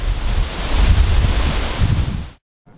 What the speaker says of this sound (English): The wind kicked up and was just rocking the aspens overhead.